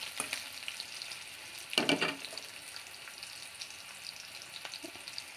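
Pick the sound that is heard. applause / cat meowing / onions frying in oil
onions frying in oil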